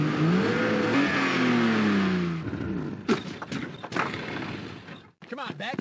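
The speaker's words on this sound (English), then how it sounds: "Sounds like someone needs a new carburetor." A video game car engine revs with a falling whine as the car drives off, then a door thunks and clattering, shuffling noises follow, with a brief gap near the end.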